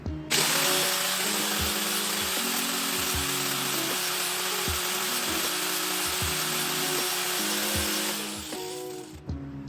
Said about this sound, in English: So I'm gonna use a grinder to grind it first.